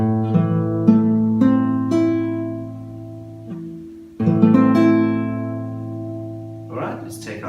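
A guitar chord is strummed from the second thickest string down, ringing out several times with decaying sustain, then a firmer repeated strum rings on, played alone without talk in a beginner lesson setting.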